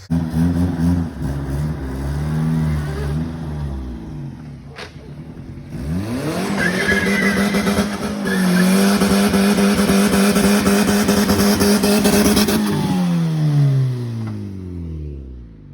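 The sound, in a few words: turbo Honda CRX accelerating with clutch spinning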